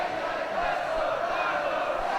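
A wrestling crowd at Christopher Daniels vs AJ Styles, split in support of both athletes, keeps up a steady, loud roar of cheering and chanting with no gaps.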